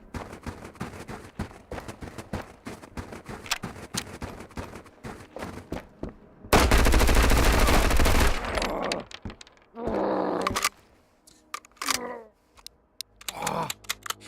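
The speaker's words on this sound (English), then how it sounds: "In my land, that's called a mag dump." Rapid automatic gunfire empties a magazine in Road to Vostok, a dense sustained burst of shots lasting about two seconds, with scattered shorter bursts and clicks around it.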